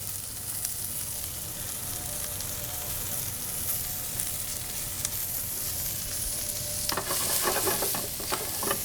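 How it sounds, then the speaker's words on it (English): Shallots frying with Brussels sprouts in a hot pan give a steady, close sizzle throughout, with louder crackling and scraping of stirring near the end. "What we are gonna add to our Brussels sprouts are some shallots"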